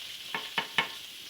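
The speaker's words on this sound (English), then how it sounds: "Our potatoes are cooking." Potatoes cooking in a pan, a faint steady background sizzle broken by three quick scraping stirs in a row.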